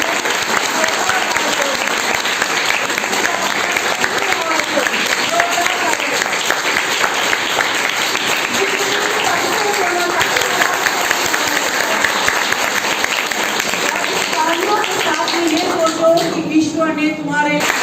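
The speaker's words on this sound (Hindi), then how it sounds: "तो सबसे जोरदार तालियां बजाओ" Loud, sustained applause from a crowd of schoolgirls at a motivational talk, dense clapping running steadily throughout with a few voices rising near the end.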